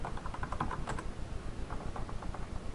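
Someone types search keywords on a computer keyboard, a quick close run of light key clicks in short bursts with a brief pause midway, with no talking.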